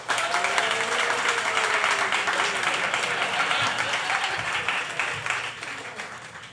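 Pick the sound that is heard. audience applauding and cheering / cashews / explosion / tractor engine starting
audience applauding and cheering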